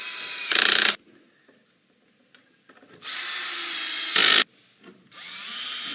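Two bursts of a power driver sinking screws while a custom newel post frame is assembled for a stairway, each whine loud and close, separated by quiet handling, with a sharp ratcheting clutch snap at the end of the second run.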